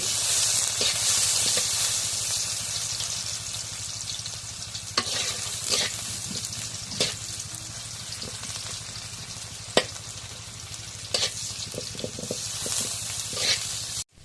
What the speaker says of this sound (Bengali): এখন পেঁয়াজ কুচি দিয়ে দিই